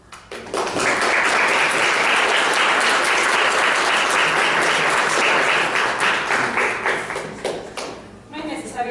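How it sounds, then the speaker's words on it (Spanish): Dense, loud applause from an audience after a poem is read at a literary and cultural discussion, swelling quickly, holding steady for several seconds and then tapering off into a few scattered claps. "No es necesario pedir aplausos para Raúl, él mismo se los gana"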